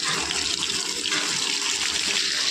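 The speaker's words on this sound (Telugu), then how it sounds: "టమాటాలు వంకాయలు మగ్గడానికి కొద్దిగా వాటర్ అయితే యాడ్ చేద్దాము." Water poured into a pan of brinjal and tomato curry with dried fish, a steady close rushing pour lasting the whole moment with no talk.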